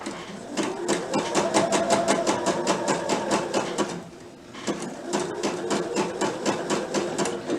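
A sewing machine zigzag stitches along the solid edge of picot elastic on fabric, running in a fast, even rattle of stitches, pausing briefly midway, then starting again close and loud.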